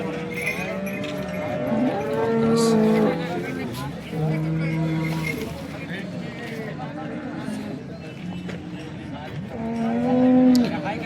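Cows mooing at a busy cattle market, long low moos rising and falling close by, with people talking and general crowd noise underneath.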